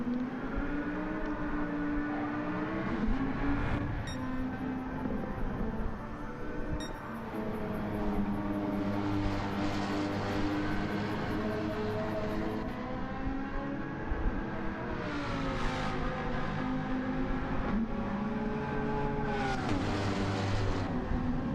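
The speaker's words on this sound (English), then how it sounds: "car sounds broken" A race car engine in a GT Champions racing video game drones and warbles continuously, sounding broken, its pitch wavering unevenly with rough, sputtering revs, loud and close throughout.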